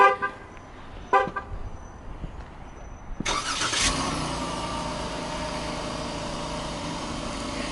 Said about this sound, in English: one of the features this has is remote start, so I'm going to go ahead and start it up